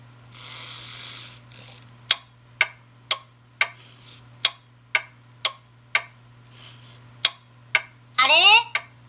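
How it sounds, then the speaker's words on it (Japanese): Evenly spaced sharp ticks of a clock, about one per second, played by a RoBoHoN robot, close and clear over a low hum, ending with a brief burst of noise. "中に時計が入ってるよ"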